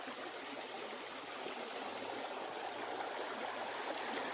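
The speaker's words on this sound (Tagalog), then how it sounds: "Ang ilog po. Ilog o sapa." A river or creek runs along the edge of a farm lot, its steady broadband rush of flowing water close and continuous, with no talk over it.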